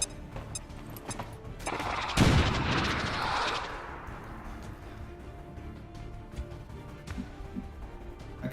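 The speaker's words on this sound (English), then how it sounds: "Grenade out!" A grenade detonating in the turn-based strategy game XCOM 2, one loud booming blast that swells and then decays into a rumbling tail before fading into quiet ambience.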